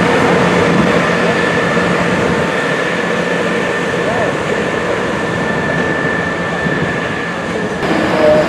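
Train at Bristol Temple Meads station, a loud, continuous rumble and rolling rail noise with a steady hum, under faint background voices and station sounds.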